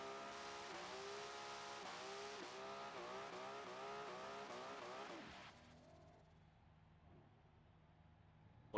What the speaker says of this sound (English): Whipping out the burnouts